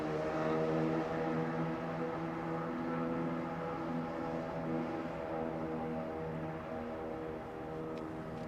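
Airliner on approach to runway 27R at London Heathrow, a steady droning engine hum with a strong layered tone, loud and constant, fading slightly toward the end.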